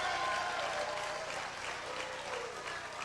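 Wrestling crowd at a 1991 IPW television taping gives sympathetic applause, a steady, moderately distant patter of hands that fades slightly toward the end.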